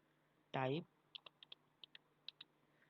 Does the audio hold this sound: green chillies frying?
no